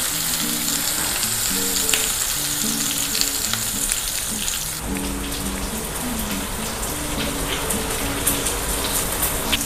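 Surmai king fish fries in a pan, a dense continuous sizzle and crackle close by, with a faint tonal hum underneath and no speech.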